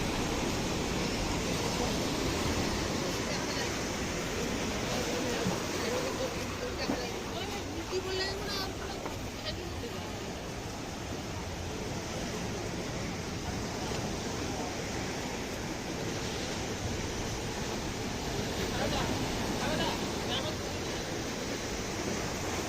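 Sea surf rolls steadily onto Digha Mohana beach, where a sunken trawler lies, a continuous broad wash of breaking waves with no clear gaps, with a voice talking over it.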